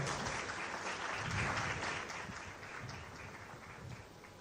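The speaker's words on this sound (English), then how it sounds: "Let's give a big round of applause to our speaker." Audience applause at an evening awards launch event in Ghana, a steady wash of many hands clapping that swells around the middle and then slowly thins, loud and continuous throughout.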